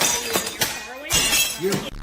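Broken glass crunches and tinkles during a heated argument at a home doorway, sharp shattering bursts mixed with agitated voices talking over them.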